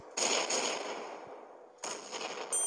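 Rapid automatic gunfire in a video game rattles out in two loud bursts separated by a brief lull, with a sharp crackling quality and no talking.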